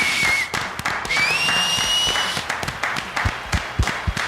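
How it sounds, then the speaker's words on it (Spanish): A live audience bursts into strong applause to welcome a professor, dense clapping with sharp individual claps standing out, loud and close, with a brief whistle-like tone over the crowd. "vamos a darle un fuerte aplauso para darle la bienvenida"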